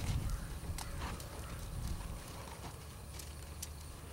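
A horse walks during a groundwork lesson, hooves clip-clopping in faint irregular knocks with a low rumble beneath, fairly quiet and without talk.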